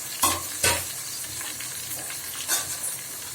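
Ginger paste, garlic and small and large cardamom hit hot oil in a pan for a beef bhuna, giving a close, steady sizzle with a few sharp bursts of spattering and stirring scrapes, and no talking.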